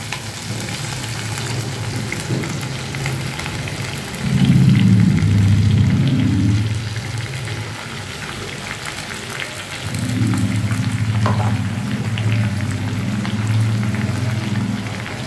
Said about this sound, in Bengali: একবারই না হয় সব ভাজা হবে, শাকটাও দিয়ে দিচ্ছি